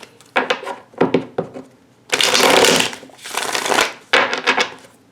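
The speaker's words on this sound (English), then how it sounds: "I will start with shuffling the tarot cards" Cards are shuffled repeatedly, quick riffling bursts and longer rustling riffles up close, with short pauses between shuffles.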